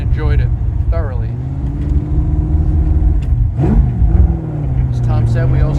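Engine of a 1965 Ford GT40 Mk V running, a steady low rumble with some rising revs, heard under continuous talking throughout.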